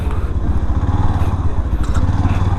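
A Yamaha FZ-X motorcycle engine rumbles steadily and close during a quick right U-turn, a loud, pulsing low drone that keeps going with little change in pitch.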